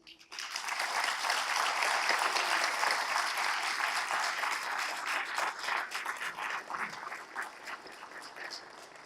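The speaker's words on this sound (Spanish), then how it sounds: "Recibamos nuevamente con un fuerte aplauso a la autora de la noche." An audience at a book presentation breaks into applause for the author, rising quickly to a full, dense clapping that holds then gradually thins toward the end.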